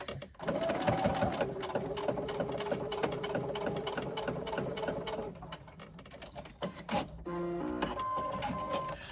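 A sewing machine stitches a slippery leather hobo shoulder bag, its steady rapid mechanical chatter running loud and close for several seconds before stopping, then short bursts and a brief restart.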